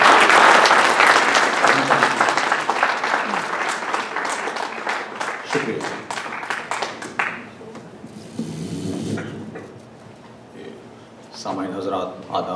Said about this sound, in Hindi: भरपूर तालियों में इस्तकबाल कीजिए